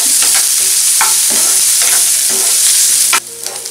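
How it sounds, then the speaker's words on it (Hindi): Sliced onions and green chilies fry steadily in hot oil for paneer bhurji, a loud continuous sizzle broken by repeated stirring scrapes, with the hiss dropping off sharply near the end. "प्याज डालेंगे और हरी मिर्च डालेंगे। अब हम इसे मिक्स कर लेते हैं। प्याज को गोल्डन ब्राउन कर लेंगे।"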